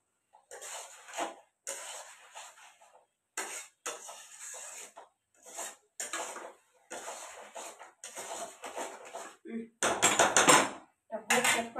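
Chilli chicken stir-fried in a pan: repeated scraping and clattering strokes of a spatula against the pan in an uneven rhythm, close and moderately loud, with a brief burst of louder sizzle and scraping near the end.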